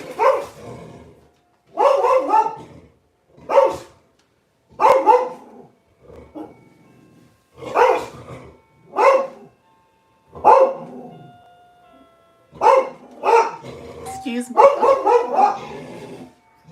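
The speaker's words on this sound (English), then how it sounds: "The doorbell's ringing, the dog's barking." A dog barks repeatedly nearby in spaced bursts, quickening toward the end, while a person briefly speaks between barks.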